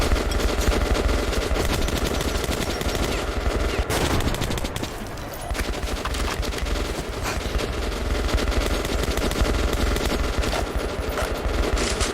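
Continuous machine gun suppressive fire in Metro: Last Light Redux, dense rattling bursts running steadily throughout with a slight lull midway, mixed with other battle noise.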